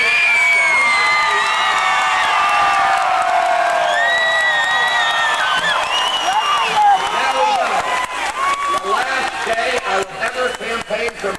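Large crowd at a 1992 George Bush presidential election-eve campaign rally in Madison, New Jersey cheering, whooping and applauding loudly and continuously, the roar thinning into scattered claps and shouts toward the end.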